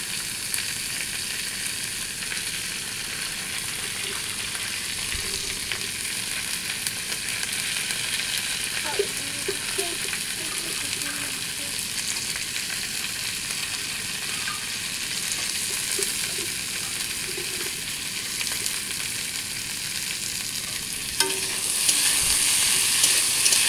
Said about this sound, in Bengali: কাবলি ছোলাগুলো আলুর সঙ্গেই ভেজে নেব হালকা করে